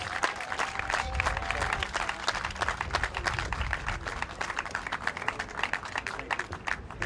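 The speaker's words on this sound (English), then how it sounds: "And now you can all clap for that." Steady applause from a crowd at an outdoor mural unveiling, many hands clapping together continuously at moderate volume, slightly distant.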